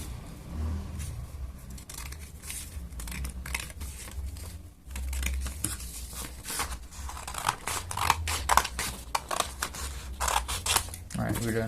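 Scissors snip through paper while a FNAF Puppet mask is being made, a close series of crisp cuts and rustling paper scrapes, with a voice talking intermittently alongside.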